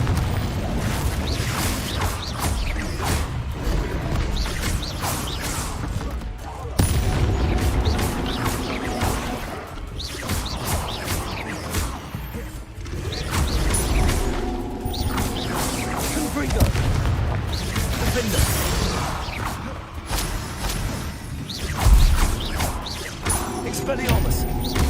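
Repeated Confringo spell blasts in Hogwarts Legacy, loud booming explosions and crashes recurring throughout a chaotic fight with whooshes and clatter, partly under a voice speaking.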